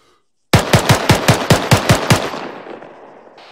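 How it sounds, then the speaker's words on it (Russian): Automatic gunfire from the military shooter game Arma 3: a loud, fast burst of about nine evenly spaced shots, then a long fading echo tail, with no talking. "Я стреляю на базе там по кому-то."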